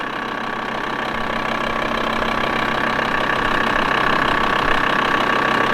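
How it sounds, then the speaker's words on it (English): A camper van engine idles steadily, with an even, throbbing rumble and a faint knocking texture that continues without a break. "now the engine is running and at idle like it was before"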